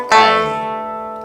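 One bright plucked note rings out on an Irish tenor banjo during a Kesh Jig lesson, starting sharply and then fading slowly, heard alone and close.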